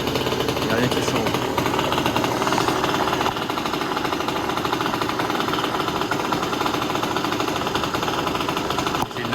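A 50cc moped engine running steadily with a buzzing, rattling two-stroke drone, loud and continuous throughout, under a faint voice.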